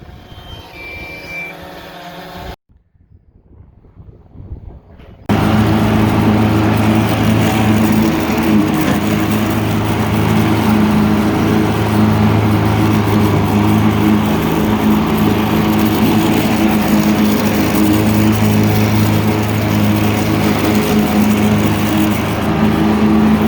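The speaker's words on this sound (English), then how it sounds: "Well, I got done mowing." A lawn mower engine drones loudly and steadily while mowing a lawn on a farm, starting after a brief quiet gap and then running as a constant close hum.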